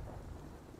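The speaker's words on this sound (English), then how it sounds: "You think this bloody rain will ever stop?" Rain falls with a low rumble of thunder rolling underneath, a short, muffled and steady wash of storm noise without any voices.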